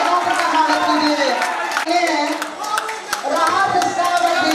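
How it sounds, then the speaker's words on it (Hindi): Audience applause at a Louis Braille birth anniversary ceremony, a sustained patter of clapping hands that holds steady for several seconds at fair loudness, with a voice speaking faintly over it. "जोरदार जोरदार तालियों के साथ उनका स्वागत कीजिए।"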